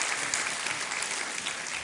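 Studio audience applause on the KBC quiz show set, steady dense clapping throughout at a close, even level with no break.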